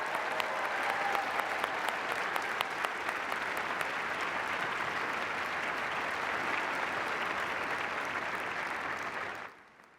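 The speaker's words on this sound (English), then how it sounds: "let's all give them a round of applause" Dense, even applause from a large graduation convocation audience, moderately distant and steady for about nine seconds before quickly fading out.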